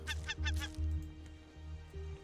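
A bird in the video game Raft honks repeatedly in loud, rhythmic goose-like bursts, sounding up close over a low steady background hum.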